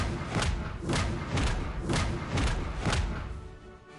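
A tank cannon firing in World of Tanks, six heavy thumping shots in a steady rhythm about half a second apart, loud and close, with a low rumble between them.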